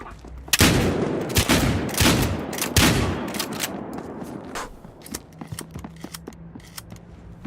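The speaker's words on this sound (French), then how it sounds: "Il tire assez vite ce fusil à pompe, ça." A pump-action shotgun in Battlefield Hardline fires several loud, closely spaced blasts in quick succession, followed by quieter scattered shots and clicks as the action settles.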